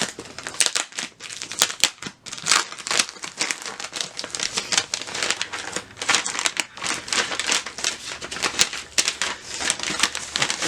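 Taped packaging on a Bachmann model train box for a GS-4 Daylight #4449 locomotive is pulled open, giving close, continuous crinkling, ripping and rustling with rapid irregular crackles.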